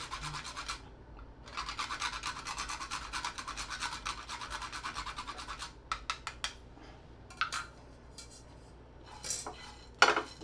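Nutmeg is rubbed over a small grater into a homemade jeeravan spice mix, giving quick rasping strokes in short bursts followed by a few light metallic taps and clinks, close and quiet.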